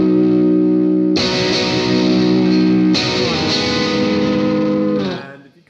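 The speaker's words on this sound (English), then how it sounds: "You can sometimes put a bit of reverb on guitar." An electric guitar with reverb and distortion: two loud sustained strummed chords ring out with a long, saturated decay before cutting off near the end.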